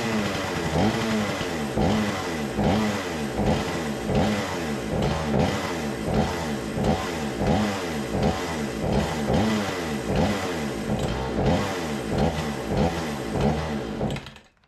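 Remington 46cc chainsaw engine running on its own, revving repeatedly in a quick regular pulsing rhythm, loud and close, before cutting out abruptly at the end.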